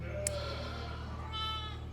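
A dairy sheep on a farm gives a short bleat over a steady low hum, with a brief click near the start.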